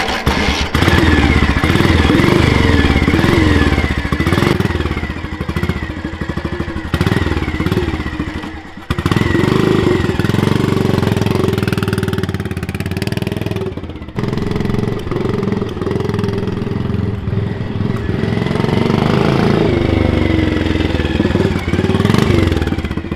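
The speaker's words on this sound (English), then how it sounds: "Slightly noisy at the moment because the end of the silencer is off being replated." A rare Maserati motorcycle engine runs loud and close with the end of its silencer removed, giving a rough, raw exhaust note that blips and revs unevenly with a brief dip near the middle.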